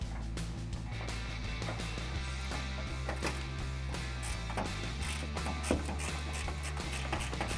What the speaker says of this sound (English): Go ahead and grab your 10mm ratcheting wrench.